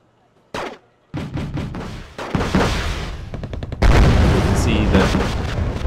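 Explosions and gunfire from F-100D jets attacking enemy infantry and command vehicles in the Wargame: Red Dragon video game, heavy dense booms that build and grow louder, with a big blast near the end.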